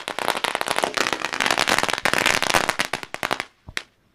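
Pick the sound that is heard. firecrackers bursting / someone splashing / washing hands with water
firecrackers bursting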